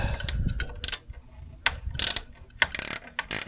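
Socket ratchet loosening a bolt on a 2024 Triumph Speed Twin motorcycle during a pannier install, a series of close, loud clicking bursts of pawl ratcheting separated by short pauses, with no talking.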